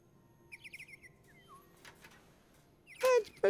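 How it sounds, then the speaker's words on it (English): A robot bird activates in the video game Detroit: Become Human, giving quiet chirps and a falling whistle followed by a louder, sharp electronic tweet burst near the end. "Bird activate. Okay. So it's a robot bird."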